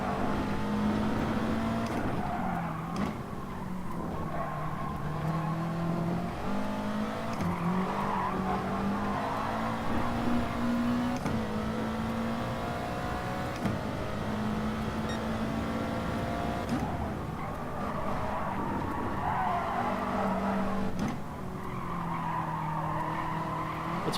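A race car engine revs hard through a lap in Gran Turismo during an FIA Nations Cup race, its pitch climbing and dropping with gear changes and braking, mixed with tire squeal, loud and continuous.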